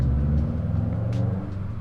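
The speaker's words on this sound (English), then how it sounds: "That's a loud fucking car." A loud car passes outside, a low engine rumble that is strongest at first and then eases off, heard alone without voices.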